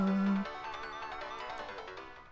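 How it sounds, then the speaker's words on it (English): A melodic phone ringtone from the Steins;Gate video game chimes in a steady run of tones, clear and close, opening with a brief low buzz before the tune carries on alone. "The ringing of my phone draws a sharp look from the nearest storekeeper."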